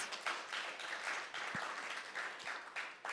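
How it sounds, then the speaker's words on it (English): A round of applause for Melwood workers at a federal employment event, sustained clapping from an audience heard at low level with a few soft thumps. "I really want to give a huge round of applause to all of the workers from Melwood"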